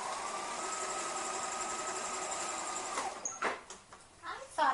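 A sewing machine back stitches along the edge of a bandana fabric, running as a steady mechanical hum for about three seconds before stopping, followed by a few soft handling clicks.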